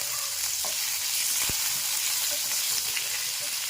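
Vertically sliced onion and curry leaves fry in hot oil in a pan, a steady, close crackling sizzle with a soft stirring knock partway through.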